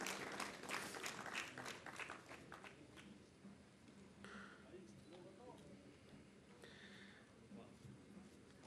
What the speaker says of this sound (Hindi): जोरदार तालियों से माननीय मंत्री जी का स्वागत करेंगे।